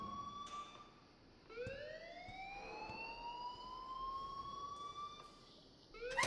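A school alarm in the game Life Is Strange wails at a steady pitch that rises slightly and holds, fairly faint and distant, with a few clicks and knocks underneath.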